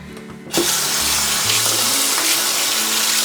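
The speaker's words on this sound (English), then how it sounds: "I'm just going to take some lukewarm water, and as I'm running it through, I'm just squeezing out all the excess and I'm rinsing" Lukewarm tap water gushing into a sink while a makeup brush is rinsed, starting abruptly and then running as a loud, steady close splash.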